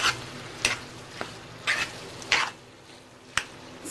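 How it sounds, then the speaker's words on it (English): Ackee and saltfish sizzle gently in a pan over low heat while a spoon stirs through it in several distinct scraping strokes, close and clear with no talking. "So meanwhile I'm stirring everything, my fire is still on, but it's on low."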